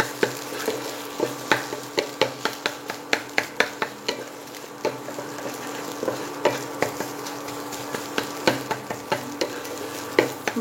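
Egg frying in a pan for street-style egg chow mein, a steady sizzle punctuated by a regular series of sharp spatula taps and scrapes as it is stirred and mashed.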